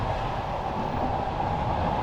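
A Soviet-era sleeper train rolls along the rails, heard from inside a carriage as a constant loud rumble with faint rhythmic rattling and clatter, steady throughout with no voices.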